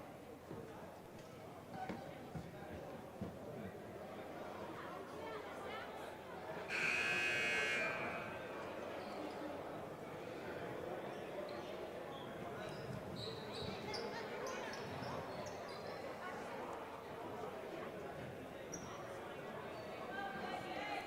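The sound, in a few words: basketball game buzzer sounding after timeout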